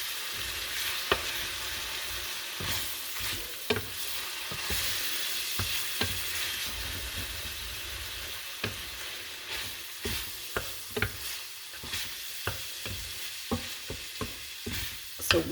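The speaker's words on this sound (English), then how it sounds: "just to deglaze my pan and get all of those lovely brown bits to come up" A pan deglazed with alcohol to lift browned bits, sizzling steadily while a utensil stirs and scrapes, with sharp clinks and taps recurring throughout, close and moderately loud.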